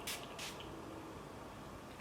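Two quick hissing spritzes from a spray bottle of Advanced Clinical Vitamin C face mist, close and soft, followed by quiet room tone.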